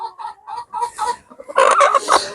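A farm cockerel, close and loud, gives a run of short clucks that rise into a brief, strained crow.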